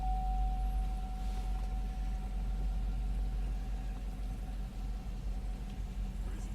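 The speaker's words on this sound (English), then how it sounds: "So I'll just start the vehicle up." A 2005 GMC Yukon Denali engine idles with a steady, low rumble, heard close and evenly throughout with no talking.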